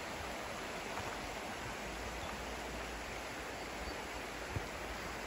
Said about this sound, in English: the sound of the water, that is so relaxing to me